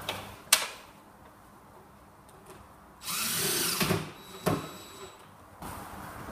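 A power drill drives a locking screw into a wardrobe, firing in one sustained whirring burst of about a second, with sharp knocks and clicks of handling before and after.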